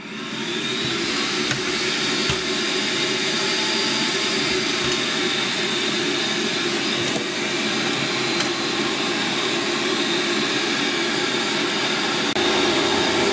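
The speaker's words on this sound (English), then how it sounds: "I'm going to turn on the fume extractor." A fume extractor fan runs steadily on an electronics bench during an arcade monitor repair, a constant close whooshing roar with a faint high whine. It holds nearly unchanged throughout, with a few small clicks and no talking.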